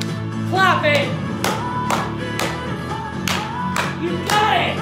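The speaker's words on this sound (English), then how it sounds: "Clap it!" Hands clap in sharp bursts at a dance session, several claps in quick groups spread over a few seconds, heard over music and voices.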